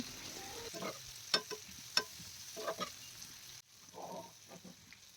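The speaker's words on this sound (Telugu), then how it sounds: "ఇలా ఈ ఫిష్ పీసెస్ని సిమ్లో పెట్టుకొని ఫ్రై చేసుకుంటేనే మంచిగా ఫ్రై అయ్యి క్రిస్పీగా అవుతాయి" Fish pieces fry on low heat in a pan, giving a faint, quiet sizzle broken by a few sharp stirring clicks and turning sounds.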